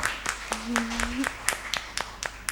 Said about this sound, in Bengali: তাদের জন্য জোরে একটা করতালি